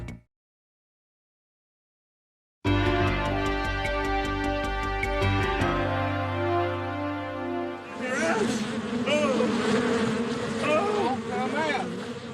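A large swarm of bees buzzes loudly in layered droning tones after a silent opening, with a sharp tonal start and then a thicker, wavering hum toward the end.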